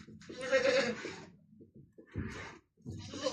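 Month-old goat kids bleat loudly at a market in Sabunchu, Azerbaijan, giving several close, wavering calls with short pauses between them.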